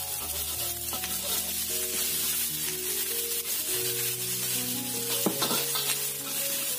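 Garlic and shallots sauté in a little oil in a pan for Indonesian fried rice and noodles, giving a steady, close sizzle with occasional stirring scrapes throughout.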